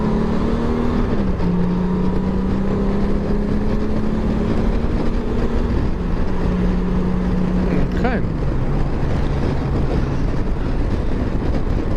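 A Honda Goldwing touring motorcycle in tour mode accelerates on a motorway, its loud engine hum rising steadily and then dropping sharply at each gear change under constant heavy wind and road noise.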